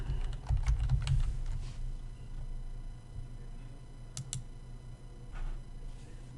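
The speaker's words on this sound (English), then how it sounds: "click at the top of the chart and type the name of another instrument" An instrument name being typed on a computer keyboard in ProRealTime trading software, heard as quiet, quick clicks of keys with a few louder taps, over a low background hum.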